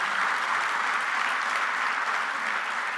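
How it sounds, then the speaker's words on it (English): Sustained audience applause at a New York City Building Trades winter conference, steady dense clapping from a large crowd filling the whole stretch without a break. "I want to give him an extra round of applause for being here and his great work with the AFL-CIO"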